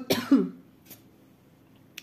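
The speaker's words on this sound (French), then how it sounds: "Je voudrais couper quand je tousse, mais j'arrive pas en fait." Two quick harsh coughs from a woman close to the microphone indoors, followed by near silence with a couple of faint clicks.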